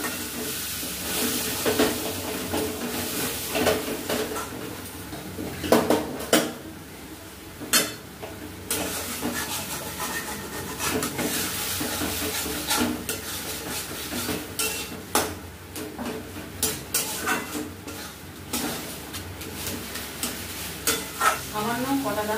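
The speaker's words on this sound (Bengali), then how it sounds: "জল দিয়ে দিচ্ছি।" Chicken biryani masala frying in a pot after water goes in, a steady bubbling sizzle with repeated spoon stirs and clinks against the pan, close and continuous with no talking.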